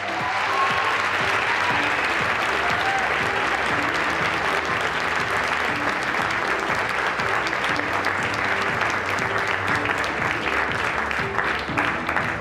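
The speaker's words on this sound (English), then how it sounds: "Let's give Caitlin another big round of applause." A large audience at the White House Correspondents' Dinner applauds continuously, a dense, even wash of clapping that holds steady for the whole stretch.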